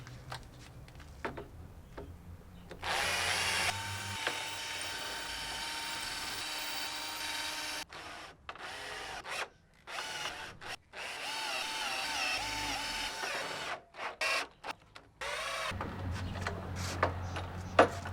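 A power drill drives long screws into a table saw fence in repeated bursts, whirring loud and close with short pauses between runs.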